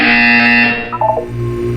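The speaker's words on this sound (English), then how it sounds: "When you hear the buzzer, look up at the ceiling" A loud, steady electronic buzzer tone from Portal 2 sounds for under a second, then cuts off, followed by a brief warbling blip and a lower hum.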